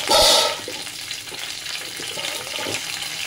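Mustard seeds and curry leaves crackle in hot oil in a pan for a tempering, with a loud burst of spitting at the start that settles into steady sizzling and scattered pops.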